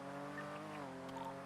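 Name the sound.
car braking with tire squeal, from video game GTA NoPixel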